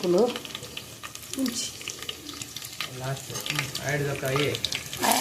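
Chopped onions fry in a pan for a dal palak dish, giving a soft continuous sizzle with occasional stirring, while a person talks over the cooking.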